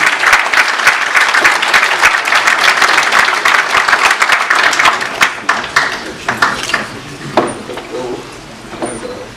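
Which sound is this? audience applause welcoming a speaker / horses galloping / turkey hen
audience applause welcoming a speaker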